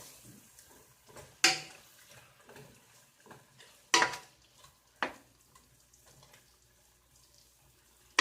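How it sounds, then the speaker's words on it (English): Browning beef stew gets a quick stir in a pot: a few sharp, separate scrapes and clatters of a utensil against the pot, with soft background noise in between. "I'm going to give it a quick stir so the other side can be colored"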